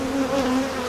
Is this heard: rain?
no